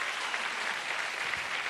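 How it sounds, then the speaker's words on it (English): Steady audience applause for the backing bands at a country music show, a dense wash of many hands clapping throughout, moderately loud and with no speech. "Would you applaud them?"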